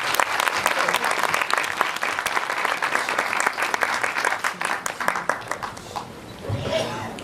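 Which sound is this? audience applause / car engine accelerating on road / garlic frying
audience applause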